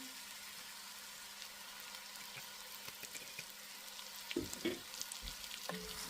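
Curry chicken cooking in a pot after a splash of oil makes a faint, steady frying sizzle, with a few soft stirring knocks toward the end and no voices.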